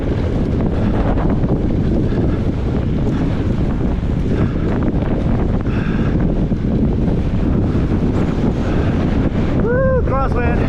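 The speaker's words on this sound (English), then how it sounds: "Straight into the wind." Strong, roaring wind buffets the microphone throughout a motorbike ride in crazy winds, a loud, constant rush with no pause.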